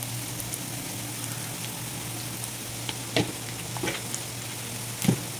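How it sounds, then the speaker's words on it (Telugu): Ginger garlic paste with rock salt frying in a pan gives a steady soft sizzle over a low hum, broken by a few sharp scraping stirs of a spoon. "వేసుకొని బాగా కలుపుకోవాలి"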